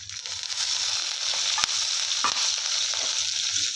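Peanuts and garlic sizzle steadily in hot oil in an iron pan, with occasional scraping clicks from stirring.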